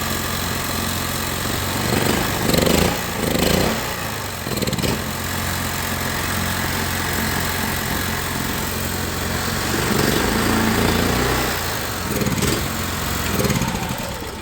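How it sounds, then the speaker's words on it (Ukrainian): A petrol generator, earlier troubled by surging revs that would not settle, runs steadily close by with a continuous droning engine note and slight rises in pitch now and then. "Генератор работает."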